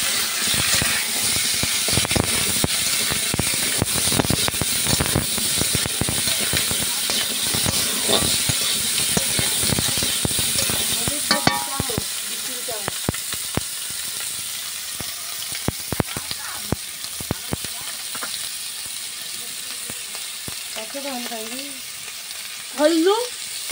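Eel curry with turmeric and chili sizzles loudly in a pan while being stirred. The steady hiss and frying crackle continue throughout, with a brief voice near the end.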